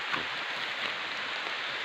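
Steady rain falls outdoors near a small irrigation dam and coconut grove in the Philippines, making a constant, even hiss with no voices.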